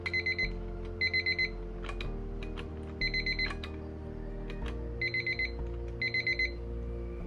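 A small alarm clock beeps in repeated quick bursts of three or four high electronic tones, separated by pauses, over a steady low hum with occasional soft clicks.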